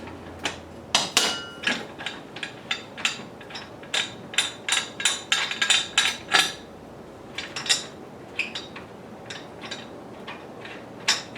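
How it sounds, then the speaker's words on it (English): Bolts being undone on a pinball machine during breakdown for transport, a close series of sharp metallic clicks and ratcheting taps in irregular bursts with brief pauses, no voices. "we'll just take this and undo these bolts."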